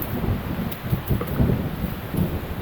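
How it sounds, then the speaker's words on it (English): Thunderstorm with gusting wind and rain on Grand Island in Michigan's Upper Peninsula, heard near a campsite tent: loud rushing wind and rain with low rumbling swells that rise and fall, no voices. "The thunderstorm rolled in fast"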